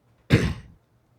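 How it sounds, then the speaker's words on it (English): A single short, sharp cough, close and isolated, with quiet room tone before and after. "I'll just cough right into the mic to start that out"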